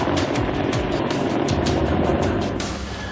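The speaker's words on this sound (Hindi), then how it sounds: "चुनूक हेलीकॉप्टर ठीक हमारे सामने रनवे पर लैंड करता हुआ" An Indian Air Force Chinook helicopter landing on a runway at night gives off a loud, continuous rotor and turbine roar. It stays steady throughout and eases slightly at the end, with no talking.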